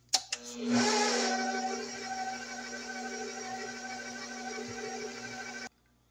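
Electric hand mixer whirring steadily at its lowest speed through cake batter for a toasted coconut pound cake, a close, continuous motor hum with a brief clatter at the start, cutting off abruptly near the end.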